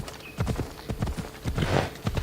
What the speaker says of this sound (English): this horse looks really awesome